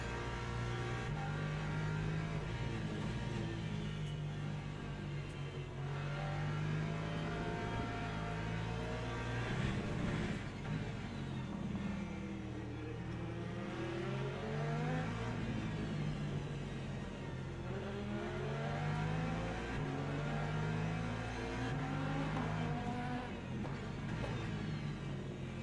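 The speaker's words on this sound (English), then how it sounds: "more LMP2s coming through" LMP2 prototype race cars in the Le Mans Ultimate sim at Interlagos: a steady engine drone with rising and falling pitch sweeps as cars pass and shift, moderately loud and continuous, without speech.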